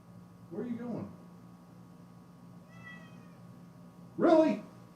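A cat named Rosie meows twice, close by, with a short meow near the start and a louder, drawn-out one near the end over a faint steady room hum.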